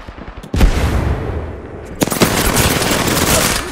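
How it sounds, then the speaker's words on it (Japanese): Automatic gunfire in the shooter game Apex Legends: rapid, loud bursts of shots that start suddenly, pause briefly, then resume in a sustained close-range volley with no talking. "撃ってる。"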